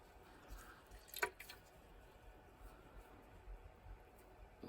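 Water drips from a squeezed piece of freshly dyed fabric in a few faint, sparse drops, with a slightly louder drip near the end over a quiet background.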